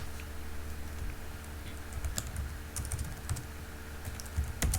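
Typing on a computer keyboard while entering terminal commands during a Node.js install, with a steady run of close, quick key clicks and a few sharper taps over a low background hum, no speech.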